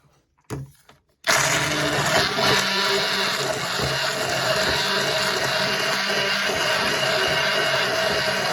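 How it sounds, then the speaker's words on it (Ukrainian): A blender whirs loudly and steadily blending berries after a short start-stop burst, a dense continuous motor roar with no voices. "І звичайним блендером"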